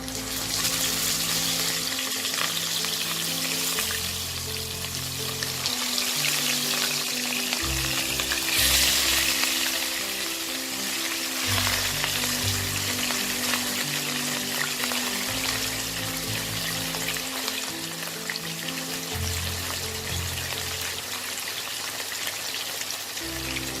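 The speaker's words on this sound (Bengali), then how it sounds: "এবার আমি মাছটা ভেজে নেব।" Katla fish sizzles and crackles steadily in hot mustard oil throughout, a loud, continuous frying hiss with faint low background tones and no talking.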